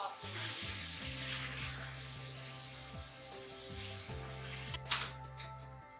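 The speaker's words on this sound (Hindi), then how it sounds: "गोश्त मैंने ऐड किया है, इसको अच्छी तरह आपने भून लेना है।" Beef pieces fry in a pot with a loud, steady sizzle for a smoked beef botti dish. The crackling spatter runs throughout, broken by occasional stirring scrapes and clatter.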